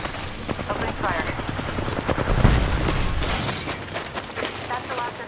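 Gunfire in a video game bursts in dense volleys with heavy booms and a high whine above them, while a voice talks over the fight.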